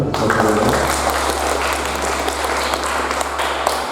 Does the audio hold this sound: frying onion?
no